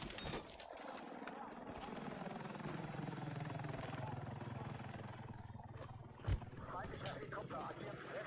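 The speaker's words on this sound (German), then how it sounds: "Feindlicher Helikopter agiert westlich von eurer aktuellen Position." A helicopter in the video game Battlefield 6 drones with a steady, heavy rotor rumble throughout, set amid game combat with a sharp thump near the end.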